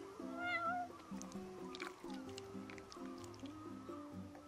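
A cat meows several times in the video game Final Fantasy XV, short clear mews over a background of musical tones and soft squishy sounds.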